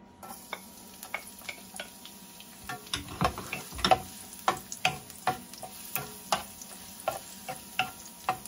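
Garlic frying in hot oil in a pan for Filipino bangus paksiw, a soft steady sizzle with irregular crackles and light stirring taps throughout, close-up with no voices.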